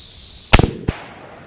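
A single sharp report from a Ruger American rifle in 6.5 Creedmoor, close and loud, followed by rapid rumbling echoes and a fainter second crack as the sound rolls back from the range.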